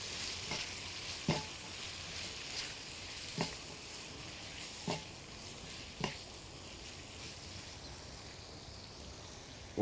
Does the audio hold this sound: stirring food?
yes